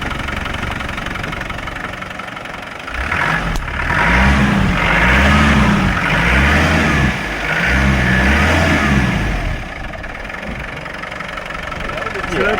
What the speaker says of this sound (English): The turbo sounds nice